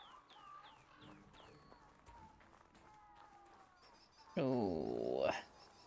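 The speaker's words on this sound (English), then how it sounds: "Nice chicken." Chickens give short clucks and chirping calls at a moderate distance through the first part, then a loud, harsh squawking burst dominates for about a second, with faint music underneath.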